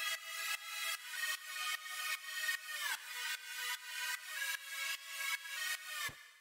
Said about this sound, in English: this one is much more of like that kind of wide, like big, sort of lush chord sound